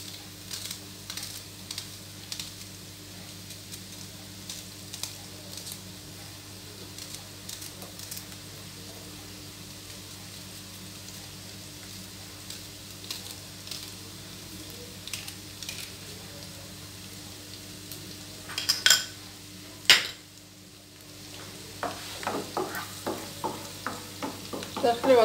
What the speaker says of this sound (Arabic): نخليو هاد البصلة تفور حتى تيدبلو مزيان